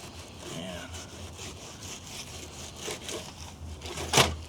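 A knife slices through a speckled trout fillet down to the skin with close, rasping strokes and soft scraping, ending in a brief sharper scrape, with faint outdoor background.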